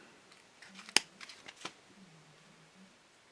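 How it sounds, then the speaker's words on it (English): Scissors snipping two strands of Flashabou tinsel for fly tying, a single faint, crisp cut amid a quiet workbench with a few light rustles. "So I'm just going to take 2 strands of Flashabou and cut them off."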